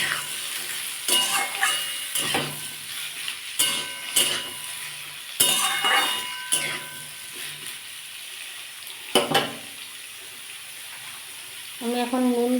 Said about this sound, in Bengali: এই বন্ধুরা এটা একটু অনেকক্ষণ ধরেই ভাজতে হবে কারণ শসার মধ্যে একটা জল থাকে